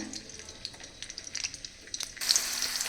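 Green chillies and doddapatre leaves fry in a pan with a crackling sizzle and stirring scrapes, which grow into a louder, steadier hiss near the end.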